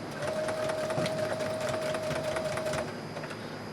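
Sewing machine straight stitching the hem of a dress apron along the inner fold, a steady, loud, fast mechanical whir with a rapid needle rhythm, stopping near the end, no talk.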